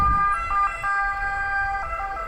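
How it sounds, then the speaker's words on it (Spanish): An ambulance siren in Naples street traffic wails in a clear, steady, repeating two-tone pattern, fairly close and loud, with low traffic rumble underneath and no talk. "Miren ahí, se pelean las ambulancias."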